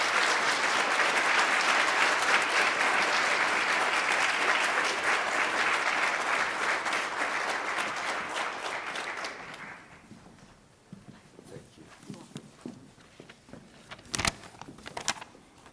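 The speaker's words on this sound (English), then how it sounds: "So I would love for you to give a round of applause as Dean Shinus comes forward." Loud sustained applause from an audience at a writing award ceremony for about ten seconds, then fading to scattered claps, shuffling and a few knocks.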